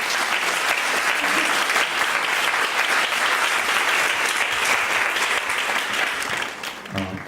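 A church congregation gives a pastor a big round of applause during a Korean-language Sunday worship service, a loud, steady wash of clapping that holds throughout before dipping near the end as a voice returns.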